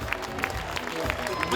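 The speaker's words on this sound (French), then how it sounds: "Un tonnerre d'applaudissements," An audience at the Salon du Chocolat Paris 2014 Charles Proust chocolate competition applauds the winner, with soft, distant clapping and crowd murmur running through the moment.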